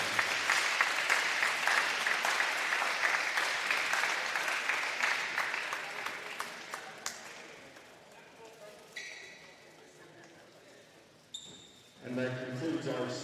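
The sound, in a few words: applause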